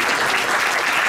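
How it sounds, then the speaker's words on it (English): A gala audience at a metal hall of fame induction ceremony bursts into dense, steady applause, loud and close, filling the moment with continuous clapping. "So one more round of applause for Pat."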